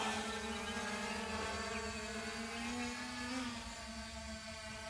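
An MJX Bugs 16 Pro drone in flight, its propellers giving a steady high-pitched buzzing whine that holds constant for several seconds, heard alone without talk.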